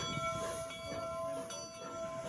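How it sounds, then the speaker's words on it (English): Steam locomotives run back and forth at the Golden Spike reenactment, a faint, steady rumble of rolling train with a sustained whistle-like tone over it, heard from a distance. "they drive the locomotives back and forth"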